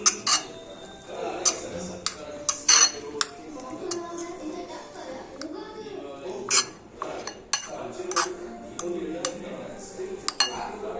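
Chapati dough being mixed with hot oil in a bowl, heard as repeated clinks and scrapes of a utensil against the bowl in irregular bursts, fairly close, with soft background noise between strokes.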